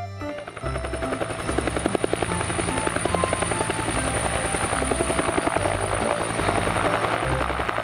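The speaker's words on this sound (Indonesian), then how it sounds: "Helikopter." A helicopter's rotor thuds steadily and loudly with a continuous engine whine, sustained throughout without letup.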